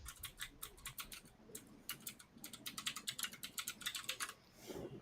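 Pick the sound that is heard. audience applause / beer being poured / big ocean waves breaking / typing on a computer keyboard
typing on a computer keyboard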